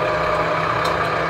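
A power utility truck's engine idles nearby on a city avenue, a steady low diesel rumble with constant drone and no break across the short stretch.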